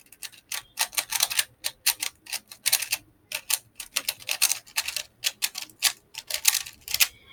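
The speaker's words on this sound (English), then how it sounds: "I'm going to have to give it a good shuffle, mix up, which is what I'm going to do right now" A Rubik's Cube is twisted rapidly while being mixed up, giving a run of sharp plastic clicks and clacks in quick irregular bursts with brief pauses, close and fairly soft, with no talking.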